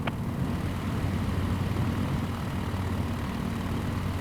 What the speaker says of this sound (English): Taxiing to gate tree using taxiway golf